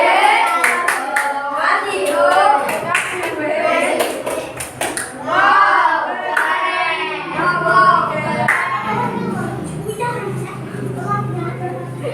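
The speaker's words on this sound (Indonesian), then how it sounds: "Mari kita kasih tepuk wow untuk kelompok 3" Fourth-grade children in a classroom do a patterned group clap for a presenting team, a quick series of sharp claps followed by chanting voices, with talk and chatter throughout.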